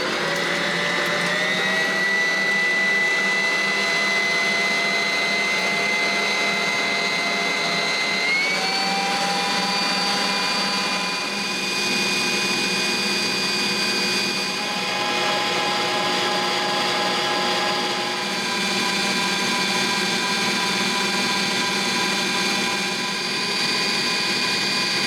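Electric mixer running on high as it whips cold store-bought cream into butter, a steady loud whirring motor whine with slowly shifting pitch held for the whole stretch, no voices over it.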